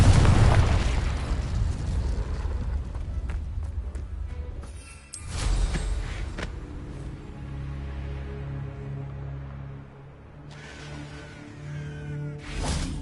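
Confringo blasting spell explosions in a Harry Potter video game: a loud booming blast that decays into a rumble, followed by a second burst with whooshing debris, then a lower tonal rumble and a final sharp crackle.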